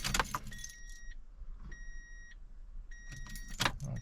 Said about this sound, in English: So now we're going to go back in and try and start the truck.